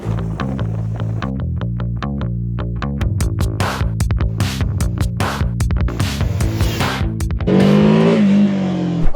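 A BMW F450GS motorcycle's two-cylinder inline engine, close and loud, revving in repeated sharp bursts with steady idle between, then a sustained higher drone near the end.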